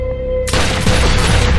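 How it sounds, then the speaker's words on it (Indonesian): In a dark scene from The Mentalist crime drama, a .45 caliber pistol fires. After a low steady hum, a sudden loud blast erupts into a dense, sustained burst of gunfire that fills the rest of the moment. "Tiba-tiba, mereka mendengar suara tembakan."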